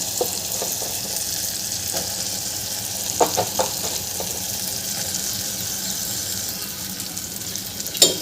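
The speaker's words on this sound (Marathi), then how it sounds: "आता यामध्ये आपण कारले घालून घ्यायचे आहे" Bitter gourd goes into a pan of softened tomato masala, which sizzles steadily throughout, with scattered scraping and stirring clicks and a sharper clatter near the end.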